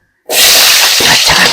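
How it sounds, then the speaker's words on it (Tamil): Mustard seeds hit hot oil for sambar with an abrupt, loud burst of sizzling hiss that follows a brief silence and then sputters on steadily, with no voices. "கடுகு பொடியும். கடுகு போட்ட உடனே"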